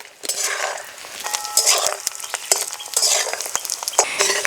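Fish roe frying and being stirred in an oiled pan, with scattered water sizzling and spattering; steady loud crackle broken by frequent scraping clicks of a spatula against the metal, close up and without voices.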